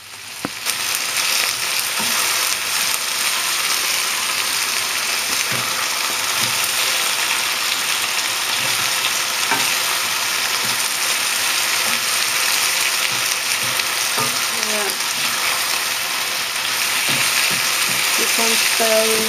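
King prawns sizzling in a Chinese stir fry, a loud continuous hiss of frying oil with scraping stirring strokes throughout, close and steady.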